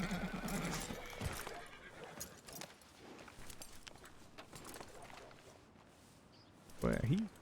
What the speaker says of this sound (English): And hitched horses wandering the streets of Valentine